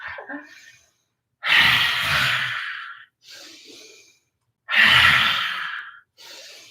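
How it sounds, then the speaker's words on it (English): Deep breaths in and out through the wide-open mouth during a Kundalini yoga exercise, with two long forceful breathy exhales and shorter softer intakes between them, close and alone. "try to inhale and exhale through the mouth"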